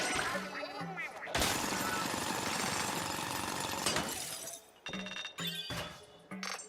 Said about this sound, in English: A literal drill.